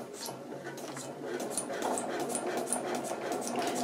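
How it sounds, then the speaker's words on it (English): Sewing machine stitching fabric toward a pivot point, a steady mechanical whir with light rhythmic needle clicks, close and continuous, with faint talk alongside. "all I'm going to do is sew down to this pivot point"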